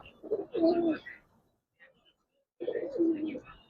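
Giribaz and coloring pigeons coo in a loft, two low throaty bursts separated by a brief quiet gap, close and moderately loud.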